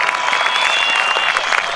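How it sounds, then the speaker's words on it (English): A rally crowd in Milwaukee keeps up loud, steady applause for military veterans, a dense clatter of clapping with a few scattered voices mixed in. "Let's give them all a huge round of applause."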